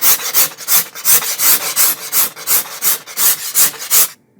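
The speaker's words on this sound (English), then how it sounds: "we are going to do this using the scraper." A scraper shaping a wooden solera used in guitar making, heard as about fourteen even, rhythmic rasping strokes close by, each a bright scratchy swipe, before stopping abruptly.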